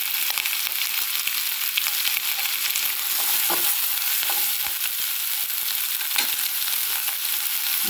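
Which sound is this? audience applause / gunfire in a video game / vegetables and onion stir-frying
vegetables and onion stir-frying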